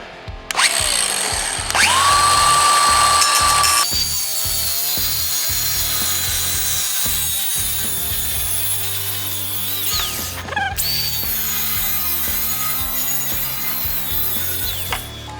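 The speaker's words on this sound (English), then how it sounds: "Back to the ever-present angle grinder." An angle grinder cuts metal on a truck with a loud, close, shrill grinding that rises and falls in pitch as the disc bites, pausing briefly twice before carrying on.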